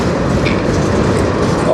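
A CN freight train rolls past on the Strathroy Subdivision with a loud, steady, close roar of wheels and cars that fills the whole moment without a break.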